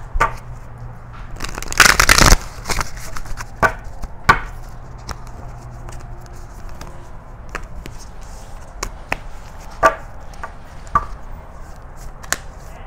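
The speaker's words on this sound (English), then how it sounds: "1 more shuffle." Riffle-like shuffling of a new deck of tarot cards, a dense burst of card flutter early on followed by scattered light taps and flicks of the cards, close and fairly quiet.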